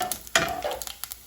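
Fennel seeds, mustard seeds and cumin hit hot oil in a pan for Mumbai-style kanda poha, giving a sharp sizzle burst that settles into a steady crackle with small pops, close and fairly loud, with no voices.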